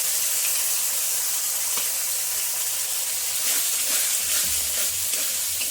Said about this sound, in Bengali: এবার 2 থেকে 3 মিনিট আমি এভাবে কষিয়ে নেব হালকা আঁচে রেখে।